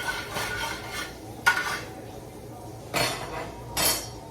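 A spatula scrapes meat around a pan in a home kitchen, making several short, sharp metallic scrapes and clinks in separate bursts with quiet gaps between them.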